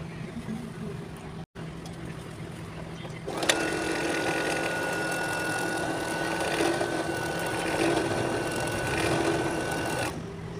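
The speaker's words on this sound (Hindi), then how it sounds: "अब हम सब सिलाई करेंगे" A sewing machine stitching elastic into a baby cap runs in a continuous steady whir for several seconds after a short quiet start, close and fairly loud.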